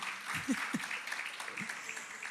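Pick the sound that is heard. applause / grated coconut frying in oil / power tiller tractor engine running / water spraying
applause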